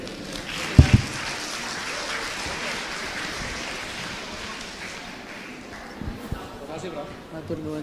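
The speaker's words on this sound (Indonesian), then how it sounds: "boleh kita berikan tepuk tangan sekali lagi untuk pembicara para panelis" An audience at a university lecture claps, a broad wash of applause that gradually fades and thins, with speech-like murmur and a few sharp knocks over it.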